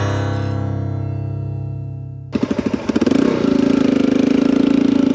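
A motorcycle engine on a trail ride in Utah's San Rafael Swell, starting as a steady low drone, then breaking into sharp revving pulses before settling into a loud, rapid throbbing as the bike gets under way.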